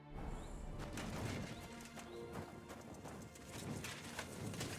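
Horse hooves clip-clop steadily in Kingdom Come Deliverance 2 as the mount walks over ground, a continuous rhythmic clatter mixed with game ambience and faint birdsong.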